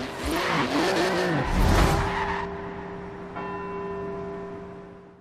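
A Forza Horizon 4 car brakes hard on carbon ceramic brakes: a loud rising engine roar and tire screech for about two seconds, then a fading, steadier hum as the car settles.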